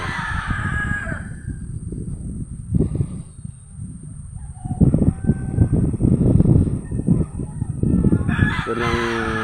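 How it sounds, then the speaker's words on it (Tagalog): Roosters and chickens crowing outdoors near a river, with several loud, drawn-out crows overlapping and a final crow near the end, set against quieter rustling background sound. "Mga ibon yan."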